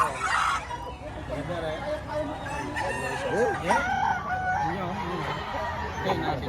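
A rooster offered for sale crows once partway through, over a busy backdrop of people talking and general outdoor noise.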